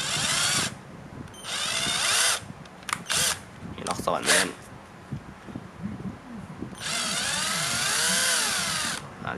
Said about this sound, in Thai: เอาสว่านเอ่อสามมิลลิเมตรนะครับ